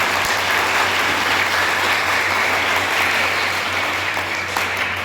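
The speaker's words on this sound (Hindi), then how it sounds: "तो अपने अपने टीचर के लिए इतनी जोर से तालियां बजाइए कि हॉल गूंज जाए" A hall audience at a district science model competition closing ceremony claps loudly for their teachers, steady, dense applause filling the room throughout with no speech over it.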